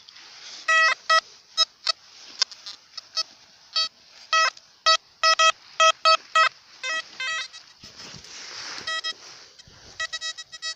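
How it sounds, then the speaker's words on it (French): A metal detector sweeping through woods gives rapid, repeated bright electronic beeps in irregular bursts, some quick doubled chirps, alongside quiet rustling. "On va passer un coup de détecteur."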